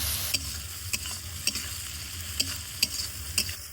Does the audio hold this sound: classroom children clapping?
no